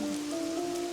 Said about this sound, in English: I'm sorry you're in the fucking rain, but what can you do?